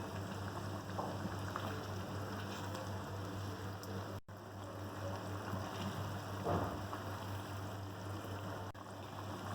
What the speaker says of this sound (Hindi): 5 मिनट तक अभी हम इसको मीडियम टू हाई हीट पर फ्राई करेंगे।